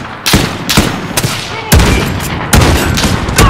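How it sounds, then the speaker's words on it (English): Explosions and gunfire in the Call of Duty Modern Warfare video game: a rapid series of loud, sharp blasts and booms, several heavy hits spaced through the short stretch, close and dense. "Grenade out!"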